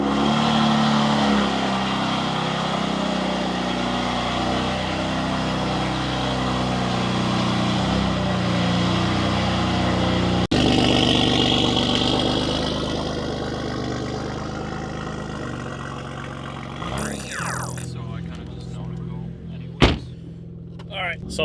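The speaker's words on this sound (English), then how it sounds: "So the new downpipes sound a lot louder on the car." BMW F80 M3 fitted with new downpipes and a stage 2 tune, its engine droning loudly and steadily while driving, with a sharp pop or crackle near the end.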